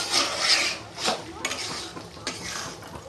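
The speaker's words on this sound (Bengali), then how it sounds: "আমি আবার একটু নাড়াচাড়া করে দেবো" Chicken pieces being stirred in a pan with a spatula while cooking a Bengali-style kababi chicken: close, steady scraping and rubbing against the pan with a few clinks, at moderate volume and with no talk.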